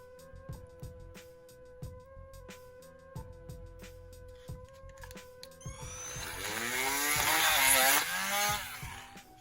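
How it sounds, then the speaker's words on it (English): A drill whirs in short bursts with pauses between, then bites into a plastic ball peg with a louder, rising grinding whine near the end. "I'm gonna go back in with our drill bit because that heat will close up that hole"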